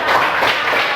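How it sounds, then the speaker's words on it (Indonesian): A burst of children clapping their hands in a classroom, a brief dense patter of claps at close range with no talk. "Tepuk tangan dong."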